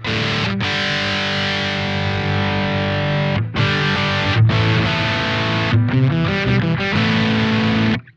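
Electric guitar played through a Wampler Pinnacle distortion pedal in its modern mode, a loud, thick distorted tone with sustained chords and brief gaps between phrases, heard alone without talk.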